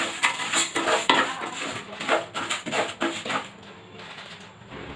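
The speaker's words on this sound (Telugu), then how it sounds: "1 కప్పు వేసుకొని ఇది కొంచెం ఫ్రై చేసుకోవాలి." Urad dal frying in a pan, a utensil repeatedly scraping and clinking against the metal in quick bursts over a faint sizzle, close and alone, easing off near the end.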